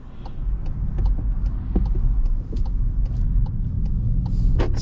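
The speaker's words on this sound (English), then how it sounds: "Engine's on now." Cupra Formentor eHybrid petrol engine running inside the cabin, a low steady rumble with faint mechanical ticks and a brief whoosh near the end, heard from the driver's seat without talk.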